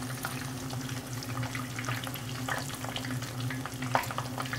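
Taco meat fries in a pan with a steady close sizzle and crackle, broken by occasional stirring scrapes over a low constant hum, with no talking.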